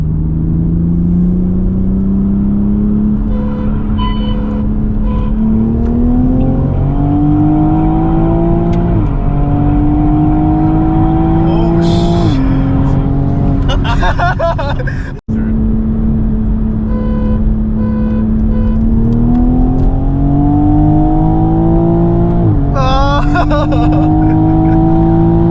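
A 2020 Toyota Supra GR (A90) and a 2011 BMW M3 pull hard from a rolling start, engines rising steadily through the gears with shift breaks and a brief dropout midway, loud and continuous over road rumble and wind.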